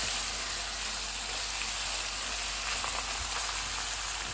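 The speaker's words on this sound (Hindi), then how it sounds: "चिकन को चेक कर लेते हैं। चूल्हे को मीडियम कर देते हैं और इसको 3 से 4 मिनट तक भूनेंगे।" Chicken frying in a pan over a medium flame gives a steady, even sizzle with a soft crackling hiss that runs unbroken throughout, with no voices.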